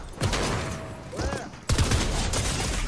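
Bursts of player gunfire in a team rumble video game, a few sharp volleys including a heavy cluster toward the end, mixed with game effects.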